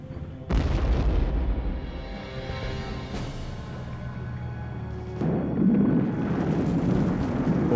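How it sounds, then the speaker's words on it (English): A land mine detonating under a tank, a sudden loud blast that rolls into a long rumbling roar, with a second burst of debris and crackle several seconds later. "as soon as the weight of a tank was present, it exploded with tremendous force"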